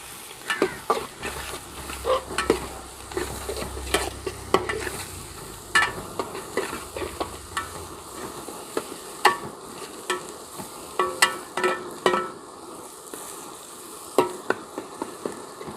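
Small onions (shallots) sauté in a pan for Kuttanadan duck curry, a low sizzle broken by frequent clattering stirs and scrapes of a spoon, close and busy, with no voices.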